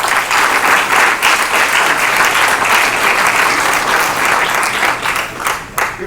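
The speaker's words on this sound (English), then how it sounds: "I want you to give a round of applause for Adam for being the moderator today." Steady audience applause for the moderator at a community conversation event on educational gaps, dense clapping from a room of people lasting about six seconds.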